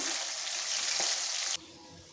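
Pabda fish frying in hot oil in a pan: a loud, dense sizzle that holds steady, then drops abruptly to a quieter hiss near the end, with no talking.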